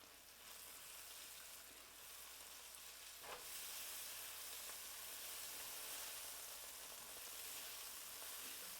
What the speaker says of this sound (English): Throwing some of the scallions in now gets that flavor infused.